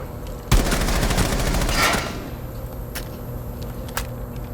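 Pistol gunfire in Rainbow Six Siege, a rapid burst of close, loud shots lasting about a second and a half, followed by two sharp single shots over a steady game background.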